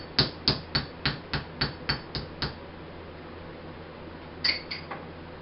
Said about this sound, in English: I'm putting this on my anvil. I'm gonna hit it a couple of times